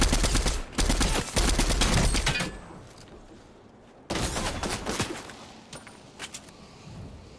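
Gunfire in the video game Fortnite: dense bursts of rapid shots crackling loudly for a couple of seconds, a short lull, then another volley fading into scattered pops.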